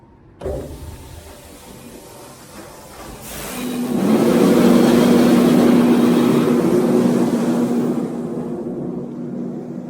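A farm tractor engine starts with a sudden thump and idles low. It then climbs to a loud, steady working hum with a sustained tonal whine, holding there before easing slightly at the end.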